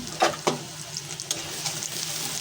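Meat reheating in a pan hisses with a steady, close sizzle throughout, broken near the start by two sharp knocks from stirring and a few lighter scrapes.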